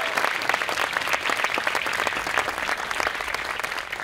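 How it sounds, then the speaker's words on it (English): Audience at a school graduation ceremony applauding the student band, dense, continuous clapping from a large crowd that holds steady for several seconds. "Let's give them another round of applause."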